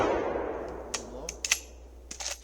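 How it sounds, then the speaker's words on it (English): A World War II .303 Lee Enfield No.4 Mark 1 rifle fires at a steel plate 220 yards away, a fading rumble followed by several sharp, distant metallic cracks and pings. "Shooting at the distant plate. That's a 220 yard plate."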